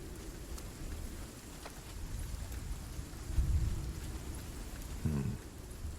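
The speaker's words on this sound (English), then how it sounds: "The storm's completely soaked the ground." Thunderstorm in the fantasy strategy game SpellForce 3: steady rain hiss with low rumbles of thunder, one heavier roll near the middle and another deep rumble close to the end, no talk.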